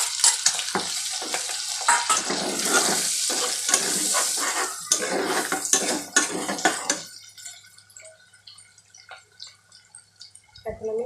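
Fried potatoes and beef tipped into a pan for egg noodles give a loud sizzle and scraping stir for about seven seconds. Then it drops to quieter clinks and faint frying.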